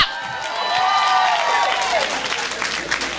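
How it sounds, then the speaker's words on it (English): A comedy club audience claps and cheers, a swelling wash of applause with scattered whoops and voices from the crowd, loud and sustained throughout. "Come on, big women, clap!"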